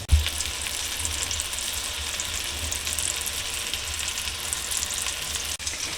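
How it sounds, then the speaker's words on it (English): Chicken pieces fry and brown in a pan with a steady, even sizzle, close and continuous throughout, with no talk. "we're going to let that brown up on one side for a couple minutes"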